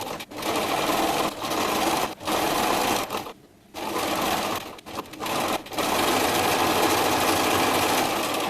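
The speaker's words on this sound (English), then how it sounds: "we are going to sew just this front seam" A sewing machine runs steadily along a costume's front seam, its fast whirring stitch loud and close, broken by a few short pauses and one longer stop before resuming.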